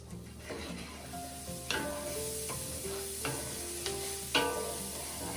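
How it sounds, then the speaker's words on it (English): Onions stirred in a hot pan, soft sizzling under several sharp scrapes and clanks of a utensil against the pan, spaced a second or so apart, with faint ringing tones between them. "We need to stir that up."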